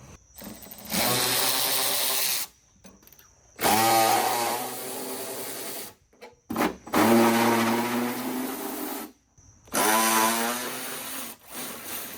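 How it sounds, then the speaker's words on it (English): Bursts of whining power-tool noise work loose rusty truck fender bolts, several separate runs of a few seconds each with short silent gaps between them, loud and close. "So, let's get these bolts loosened, same thing."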